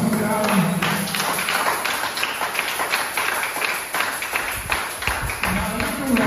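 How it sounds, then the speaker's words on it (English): A church congregation applauding during a service: dense, sustained clapping from many hands that holds steady throughout, with a voice speaking over it. "Give a lovely applause to the hands."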